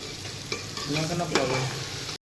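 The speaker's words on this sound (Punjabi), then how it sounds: "ਚੋਲ ਤੇ ਪਿਆਜ਼ ਆਪਣੇ ਭੁੱਜ ਰਹੇ ਆ ਮੇਰੇ ਸਾਹਮਣੇ" Onions and rice sizzling in a pan on the stove for a mutton dish, a steady close frying hiss broken by a few scraping stirs.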